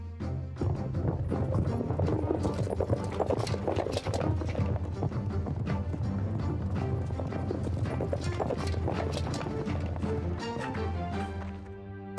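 Horses' hooves clip-clopping under a busy, dense layer of sound, with rhythmic hoof beats running steadily through the whole stretch.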